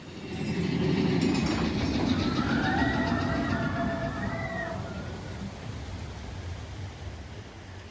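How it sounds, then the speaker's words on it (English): A Disneyland mine train ride rushes past nearby with a swelling roar and rattling wheels, then fades as it moves away, a faint high squeal riding over it. "It's a mine train ride, and we caught the train just as it sped by."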